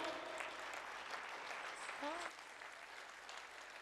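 An audience at a Ramayana festival performance applauds in a continuous wash of clapping, with a couple of brief voice calls over it, easing slightly toward the end.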